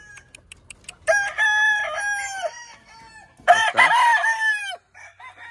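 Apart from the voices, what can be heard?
Kelso gamecock rooster and hen crowing and clucking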